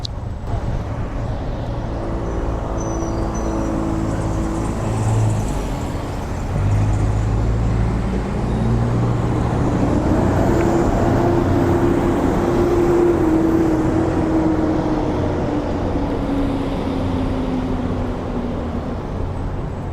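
A car cruising steadily along the Las Vegas Grand Prix street circuit, with a continuous close engine and road rumble, tire noise and a slowly shifting engine tone as it drives the track.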